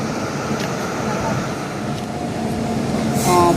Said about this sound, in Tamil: பாலக்காடு எம்ஜிஆர் சென்னை சென்ட்ரல் ட்ரெயின் வந்துருச்சு